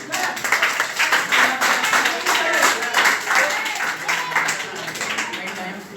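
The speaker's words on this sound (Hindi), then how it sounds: "तालियां बजाओ।" Audience at a Sahaj Yoga meditation session in a school in Gurugram clapping hands in a busy, irregular patter of many claps, with voices talking over it throughout.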